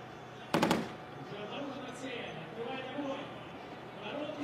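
A tank's 12.7mm heavy machine gun fires on a range: one short, sharp burst of several rapid shots, fairly distant, followed by steady background rumble and someone talking.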